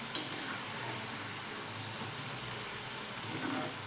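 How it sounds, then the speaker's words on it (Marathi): Shankarpali, crisp salted diamond-shaped dough snacks, frying in hot oil on a medium gas flame: a steady, soft, continuous sizzle with a slight crackle, alone and without talk. "मध्यम गॅसवरती तळून घ्यायच्या"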